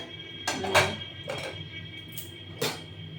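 A pressure cooker holding boiled beetroot, carrot and potato is handled in a kitchen, giving a few sharp metallic clanks and knocks of pot and lid spread over a quiet background, no talking.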